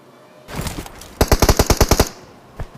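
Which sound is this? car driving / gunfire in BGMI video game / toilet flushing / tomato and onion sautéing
gunfire in BGMI video game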